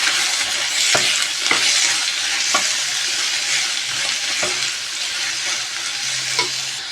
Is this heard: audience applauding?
no